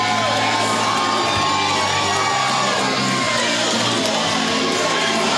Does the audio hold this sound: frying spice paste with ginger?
no